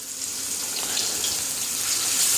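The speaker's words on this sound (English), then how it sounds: "make sure your pan is hot so you can hear that sear" Beef short ribs sear in a hot pan with a steady, loud broadband sizzle that holds evenly throughout, close up and alone with no talking.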